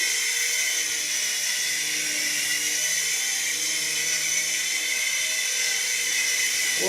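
A tiny XVB two-channel infrared RC helicopter flies nearby with a steady, high-pitched whine from its small motor and rotor, holding even and fairly loud throughout.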